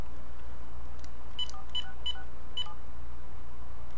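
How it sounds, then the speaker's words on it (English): Phone keypad dialing tones as a number is punched into a phone, a handful of short, evenly clipped beeps at an irregular pace against a steady low background hum, close and clear with no talking. "I'm just going to call my phone"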